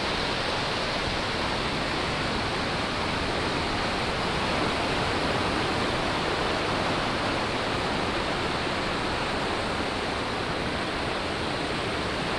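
A swelling stream of rushing water, a dense, continuous roar of broadband noise, loud and close, steady throughout with no voices.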